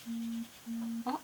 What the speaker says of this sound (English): And some notification from Facebook probably.